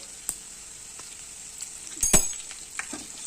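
Andhra-style pundi chutney ingredients fry in a pan as turmeric powder goes in: a faint, quiet sizzle broken by a few sharp clinks of a spoon against the pan.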